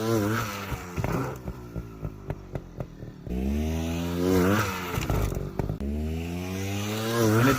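A dirt bike engine revs hard, first with a series of short throttle blips, then long rising revs that climb in pitch, dip and climb again, loud and close with no voices.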